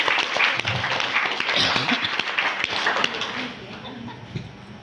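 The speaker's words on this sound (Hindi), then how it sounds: "तो ताली ज्यादा होना चाहिए।" Audience clapping at a business plan presentation for a marketing company, a moderate ripple of applause that thins out over a few seconds.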